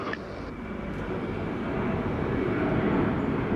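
An airliner landing on runway 25 at Montego Bay, Jamaica, a broad continuous roar of engine and rushing air that holds steady and swells slightly louder toward the end.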